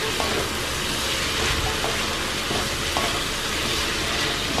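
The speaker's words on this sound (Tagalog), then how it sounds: "So, igigisa muna natin." Ingredients for pansit, including mushrooms, sauté in a hot pan, giving a steady, dense sizzle that runs unbroken from start to finish with no voices.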